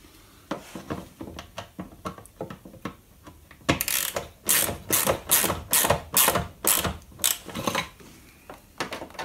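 A ratchet wrench tightening the headlight screws on a Renault Clio 2, with rapid, close clicking in short repeated bursts that grow louder and faster midway; no voices.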